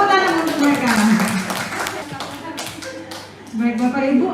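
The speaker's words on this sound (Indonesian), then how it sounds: "Tepuk tangan untuk mereka." Audience of teachers at a school training session gives a round of applause, a dense patter of clapping that swells and fades with voices mixed in.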